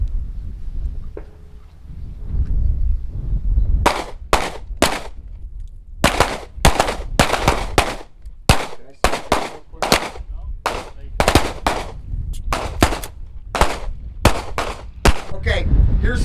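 Pistol shots ring out in sharp, separate cracks, about twenty of them fired at a paster target on a range, some in quick pairs and some with short pauses, loud and close, with a low outdoor rumble between them.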